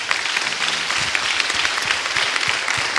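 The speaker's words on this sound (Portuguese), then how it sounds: "Uma salva de palmas para Jesus." Applause at a pastors' meeting, a roomful of people clapping steadily and fairly close, sustained and even across the moment with no talk over it.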